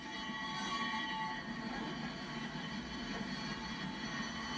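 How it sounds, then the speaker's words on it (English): The Angels Flight funicular railroad car in Los Angeles, built in 1901, runs up its steep incline with a faint, steady rolling rumble and metallic hum of the car on its rails. "Angel's Flight, built in 1901, the funicular railroad"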